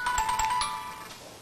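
A phone rings for an incoming call with a short electronic melody of bright, repeated tones that fade out within about a second.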